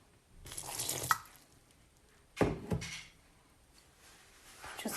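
Water splashing and pouring in bursts while pizza dough is mixed by hand, with short wet squelching sounds and quiet gaps between additions, close by.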